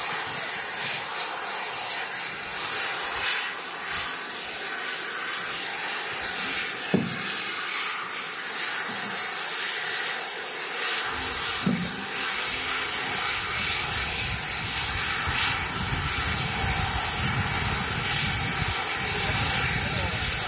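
An airliner taxis onto its stand at Manchester Airport, its jet engines a steady broad roar that slowly grows louder over about twenty seconds, with a couple of faint knocks along the way.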